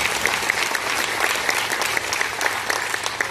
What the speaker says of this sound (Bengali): একবার বসের জন্য হাততালি, জোরসে হাততালি